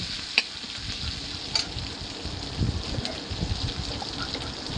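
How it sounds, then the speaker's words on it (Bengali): Masala spices and salt being stirred in a hot frying pan for a dahi katla fish curry, with steady sizzling and a few sharp spoon scrapes, close and alone. "নুনটা দিয়ে ভালো করে আমি মশলাটা আবার নেড়ে নেব"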